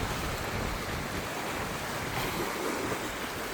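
Sea waves washing in along a shore, a continuous broad rushing wash with wind noise, steady and moderately loud, no voices.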